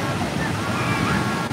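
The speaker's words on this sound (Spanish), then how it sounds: "Que las olas están haciéndose hacia adentro con fuerza, güey. Están chocando con las que vienen bien raro" Strong ocean surf surges inward and collides with incoming waves, a continuous loud rushing roar with wind buffeting the microphone throughout.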